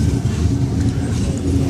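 A Sydney Trains Tangara electric train bound for Cronulla moves through Gymea station, giving a steady low rumble with a faint higher whine, loud and close.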